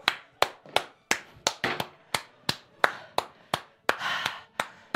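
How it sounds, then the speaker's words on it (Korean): A few people clap by hand in a slow, uneven rhythm, sharp close claps repeating steadily for several seconds. "박수 한번 칠까요?"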